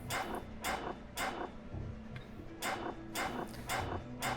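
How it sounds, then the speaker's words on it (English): A pack of dogs in the Underrail video game gives off a series of about seven sharp barks and yips in an uneven rhythm, moderately loud over a steady low rumble of background ambience. "And just a field of dogs."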